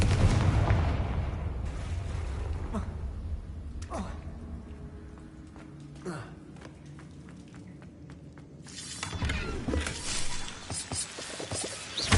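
Confringo fire-blast spell going off in the video game Hogwarts Legacy: a loud burst at the start, then scattered sharp cracks and pops with a rumbling swell near the end, under faint game ambience.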